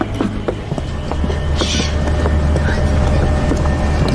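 A boat's motor running as its power is increased, a steady low droning rumble with a constant hum that holds loud and even throughout, with wind and faint water noise over it.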